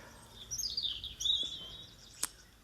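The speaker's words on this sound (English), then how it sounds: "I'm going to leave it somewhere for a little while recording to pick up the birds." Birds sing in a forest with a few thin, high chirps and short warbling phrases at moderate distance, and one sharp click near the end. No one speaks.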